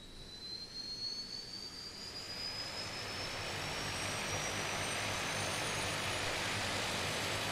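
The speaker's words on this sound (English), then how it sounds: "There's the engine spinning. We'll add fuel." A DHC-6 Twin Otter turboprop engine spins up in a flight simulator game, a rising whine climbing steadily in pitch while a broad rushing roar swells and holds loud and constant.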